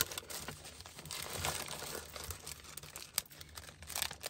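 Soft, close crinkling of plastic, rustling in uneven bursts with small crackles, fairly quiet and with no one speaking.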